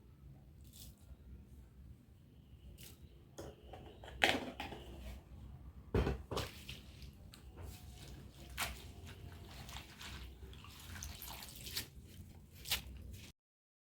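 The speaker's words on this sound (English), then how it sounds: "I'm done chopping the Nkontomire, so you can see me washing it now." Chopped nkontomire (cocoyam leaves) is washed by hand in a bowl of water, with quiet squishing, sloshing and occasional sharper drips and splashes, close and soft, with no talk.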